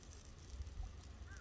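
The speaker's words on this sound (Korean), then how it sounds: "이런 새소리 듣고 물소리 듣고" Geese or similar waterfowl honk briefly and faintly at a quiet lakeside campsite, with a low steady rumble of wind or water underneath and no talking.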